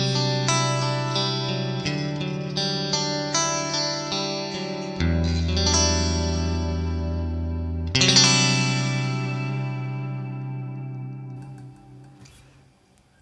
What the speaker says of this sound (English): I'm going to add some reverb and delay here to give you an idea of how big this can sound